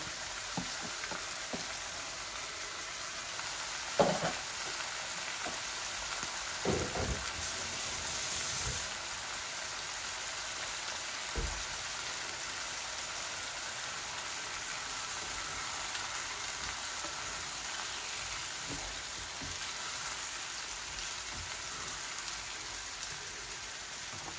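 Chicken pieces fry in a pan with chili and spice masala, a continuous close sizzle broken by a few knocks and scrapes as the mixture is stirred, with no talking.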